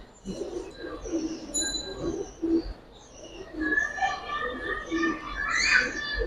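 Running adult Giribaz high-flyer pigeons in a loft give soft, low cooing at moderate distance, blending with bird chatter and faint background voices.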